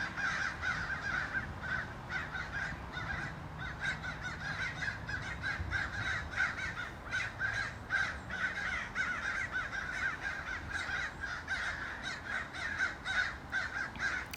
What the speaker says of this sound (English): today it was crows that are trying to get rid of them